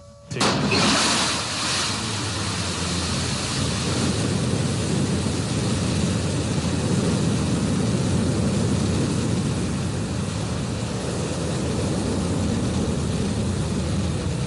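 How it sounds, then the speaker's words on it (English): Blue Origin New Shepard rocket engines roar at liftoff from Launch Site One in West Texas, a sudden loud onset settling into a sustained, steady broadband rumble with no talk over it. "And we have liftoff. Go, New Shepard, go."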